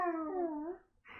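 A person mimics a howling dog with a single drawn-out, wavering howl that slides down in pitch and fades out, followed by a brief breathy noise at the end; no other talk.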